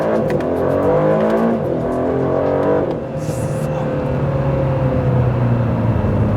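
An Aston Martin DB12 accelerates hard, its engine note climbing steadily through the revs in one loud, close sustained pull with a brief dip partway through.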